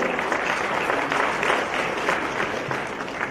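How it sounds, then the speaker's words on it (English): Conference audience applauding a national president: steady, dense clapping from a large crowd, sustained at an even level throughout with no voices standing out. "Can I get a big round of applause for our 2018 National President Gopikant Kovind"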